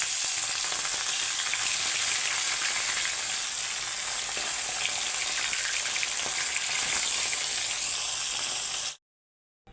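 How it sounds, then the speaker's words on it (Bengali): Fish pieces coated in salt and turmeric fry in hot oil in a wok. A loud, dense, steady sizzle lasts the whole time, then cuts off abruptly near the end, with no talking. "এখন কড়াই তেল গরম হয়ে গেছে মাছগুলো এক একটা দিয়ে দেবো"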